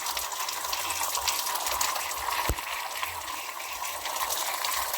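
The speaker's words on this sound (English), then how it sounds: "Just fill it up with water" Water gushes steadily from a tap or hose, filling the holes of beehive comb frames to drive out wax moth. The flow runs close and constant, with one brief sharp tick midway and no talking.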